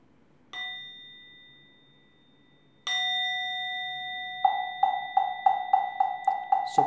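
A Buddhist temple bell and wooden fish used for chanting: two single ringing strikes that hum and fade, then a steady run of about eight quick, even strikes. No chanting voice is heard.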